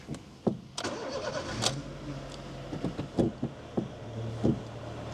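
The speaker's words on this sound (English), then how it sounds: "we've got a thrust bearing noise in the clutch" A Honda Jazz engine idles with a low whirring from a faulty clutch thrust bearing, punctuated by a few light clunks and knocks.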